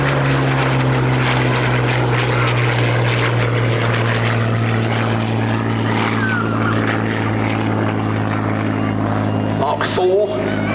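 A Hawker Hurricane Mk.I vintage fighter at an air show passes with a steady, loud propeller drone and strong engine hum, sustained throughout with little change in level.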